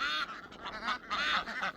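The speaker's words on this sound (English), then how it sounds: "Get your ducks together." Several domestic ducks on a homestead quack and honk in loud, close, overlapping calls, a busy run of squawks with only brief gaps.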